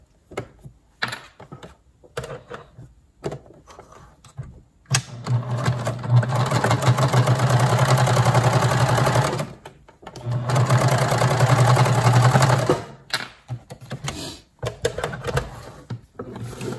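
A sewing machine stitches a washable, reusable fabric face mask at a low speed setting, running in two sustained bursts of steady whirring separated by a short pause, with quieter handling clicks and thumps before and after.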